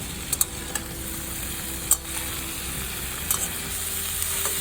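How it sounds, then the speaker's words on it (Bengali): Vegetables for a small-fish chorchori fry in a pan with salt and turmeric, giving a low, even sizzle with a few sharp clicks from stirring and no voices. "লবণ হলুদ দিয়ে আমি সবজিগুলো আরেকটু ভাজা ভাজা করে নিলাম।"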